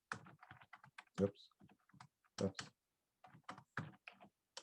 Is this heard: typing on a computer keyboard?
yes